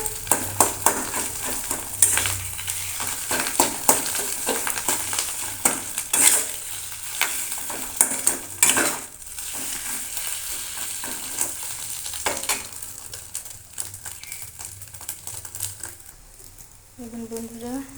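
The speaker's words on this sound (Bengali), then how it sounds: "অল্প আঁচে আস্তে আস্তে করে ভেজে নিয়েছি" Fish roe frying slowly over low heat in a little oil in a pan, giving a steady crackling sizzle with stirring and utensil scrapes, while a voice talks over it now and then.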